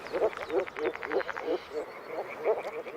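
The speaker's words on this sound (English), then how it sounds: "This is the signal for moor frogs to gather in their thousands at their spawning grounds." Moor frogs call at their spawning grounds in a flooded Danube riverine forest, with a rhythmic series of soft, bubbling croaks repeating at a steady pace, moderately close over a quiet wetland background.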